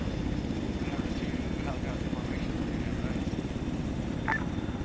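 Steady low drone of an aircraft engine in a military simulation game, continuous and unbroken throughout as it descends toward a runway, with faint tones over the hum.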